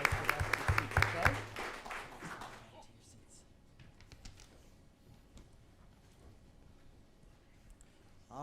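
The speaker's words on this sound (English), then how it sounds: "how about another round of applause, everybody?" Audience applause at a school board of education meeting, a burst of clapping with voices over it for the first few seconds, then fading to a quiet room.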